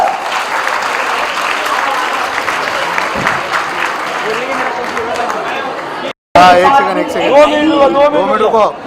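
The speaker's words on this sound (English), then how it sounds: "A round of applause for Dr. Vivek Devlankar sir." Loud, sustained applause from a large audience at a Mumbai University felicitation event, with crowd chatter mixed in, then a brief cut followed by people talking over the noise.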